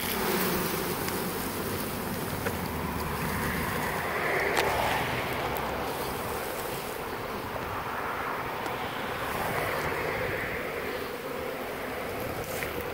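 A swarm of honey bees shaken off a tree limb into a box gives a dense, steady buzzing hum throughout, with no talk.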